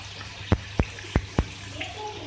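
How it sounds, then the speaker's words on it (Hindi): Four short, sharp splashes in quick succession as a little water is poured over cooking tomatoes in a pan, followed by a faint sizzle and bubbling in a quiet kitchen. "इसके अंदर मैं बिल्कुल पानी थोड़ा सा ऐड करी हूँ"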